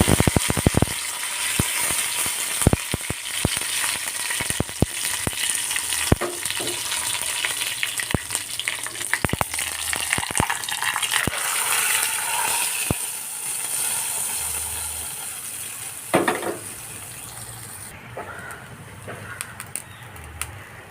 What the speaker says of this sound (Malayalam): ഉണക്കച്ചെമ്മീൻ കറി വയ്ക്കുമ്പോൾ ഇതുപോലെ കടുകിട്ടിട്ടാണ് താളിക്കുക കുറച്ച് വേപ്പിലേക്ക് കൊടുക്കാം